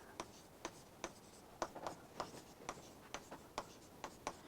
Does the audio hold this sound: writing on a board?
yes